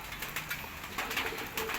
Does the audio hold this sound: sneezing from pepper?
no